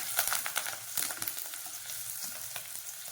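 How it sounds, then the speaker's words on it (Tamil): Ginger, green chili and curry leaves sauté in a pan, crackling and sizzling close by with repeated spatula stirs and scrapes clustered early, fading to a softer steady fry, no voices present. "அடுத்து கருவேப்பிலை சேர்த்து இதை நல்லா வதக்கிக்கணும்."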